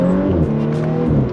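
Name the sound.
B9 Audi S4 accelerating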